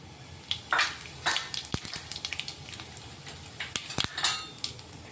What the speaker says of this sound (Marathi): तर आता तेल गरम झालेलं आहे, त्याच्यात जिरे मोहरी टाकून घेऊ आपण।